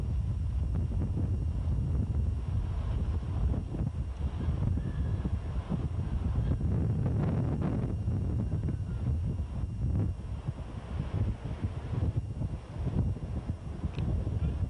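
Steady, blustery wind buffets the microphone on the backstretch of a 1984 bicycle criterium race, a continuous low roar, with no voices, lasting throughout.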